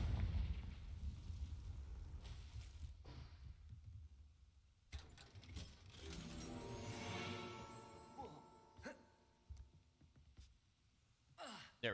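Confringo fire spell cast in Hogwarts Legacy: after a breathy sigh-like sound, a sudden blast bursts out, followed by a crackling, fiery rush that fades out with scattered sharp pops.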